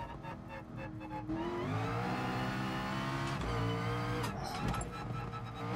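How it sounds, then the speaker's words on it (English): A race car engine in the video game GT Sport runs oddly, its tone rising and falling in sustained, whining revs with a sudden pitch shift partway through, loud and up front. "You listen to the engine, it kind of like, I don't know what it's doing, it's weird."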